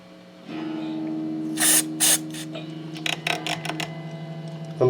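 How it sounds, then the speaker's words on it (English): Short hissing bursts of contact cleaner sprayed into the 5-way switch of a Made in Japan Fender Stratocaster, two longer blasts followed by several quick spurts, close and loud over a steady electrical hum. "I'm just going to spray out the 5-way switch."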